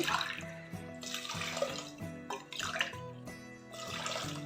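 Water pours steadily into a pan while kozhukattai dough is being prepared, a continuous close splashing run with a slight shift in tone partway through and no talk.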